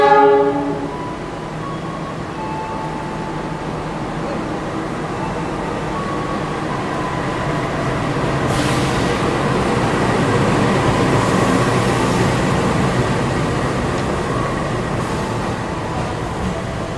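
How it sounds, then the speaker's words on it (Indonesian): A Malabar passenger train pulls into Tasikmalaya station, its loud sustained rumble and wheel noise building steadily as it rolls close by, with horn-like tones sounding over the roar and no talking. "Ini dia, kereta api Malabar masuk stasiun"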